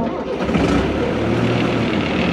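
An old open-cab farm tractor's engine fires up and settles into a loud, steady, close rumble with no pause or struggle.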